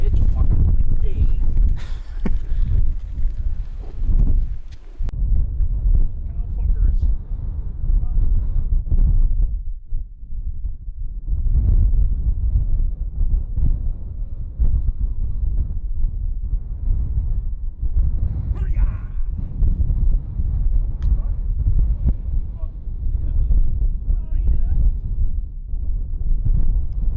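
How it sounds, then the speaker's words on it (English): Strong wind buffets across open moorland on the way up Rough Tor in Cornwall, a continuous low rumbling roar of wind on the microphone that keeps going while people talk over it. "It's fucking windy."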